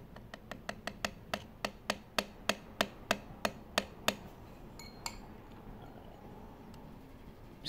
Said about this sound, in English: he's tapping the hook a little bit because he screwed it in a little bit